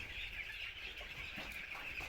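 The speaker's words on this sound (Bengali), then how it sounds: "আজকে আমার এই মুরগির বয়স 14 দিন।" 14-day-old chickens cluck softly amid a steady high-pitched hiss of background noise, with no one speaking.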